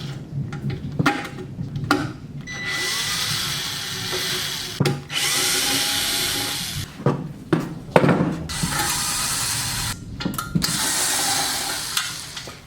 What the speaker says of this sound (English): Bust the rest of these screws loose.